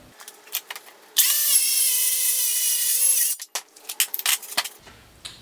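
A power saw rips through a cabinet carcass panel clamped under a straight edge, one loud steady cut of about two seconds framed by quieter knocks and handling noise.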